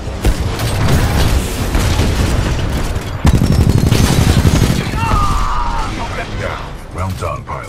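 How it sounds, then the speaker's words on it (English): Sustained heavy gunfire and booming explosions from a Titanfall 2 battle with BT-7274, dense and loud throughout with mechanical clanks, a sharp burst near the middle, and a game voice speaking under the combat. "Taking fire."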